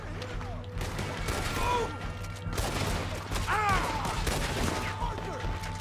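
Rapid gunfire in Red Dead Redemption 2 during a chaotic shootout, repeated loud shots layered over background music and shouting voices, with a brief exclamation mid-scene.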